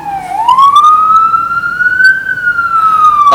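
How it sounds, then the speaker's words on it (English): An emergency vehicle siren wails outdoors with a clear rising and slowly sweeping tone, loud and steady with no one talking. "Why is there a siren going on?"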